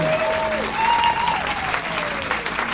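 Audience applause for a show host at a live comedy talk show taping, a steady wash of clapping from a crowd with a faint whoop or whistle rising over it, loud and sustained throughout.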